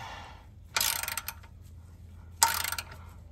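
A ratchet wrench tightening the oil drain plug with its crush washer on a 2015-2021 Subaru WRX STI during an oil change: two short bursts of quick ratcheting clicks, close and moderately loud, with no speech.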